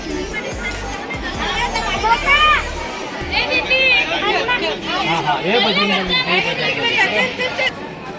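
Dense crowd chatter at the Dwarka temple in Gujarat, a steady hubbub of many overlapping voices with children's calls rising above it, close and continuous throughout.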